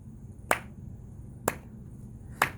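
Three sharp, evenly spaced claps keep a steady beat about a second apart for Old Town Road, each crisp and close against a quiet low hum.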